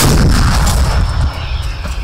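A Russian 2S5 Giatsint-S self-propelled howitzer fires, giving a loud, heavy boom with a deep rumbling roar that fades over about two seconds, with no voices.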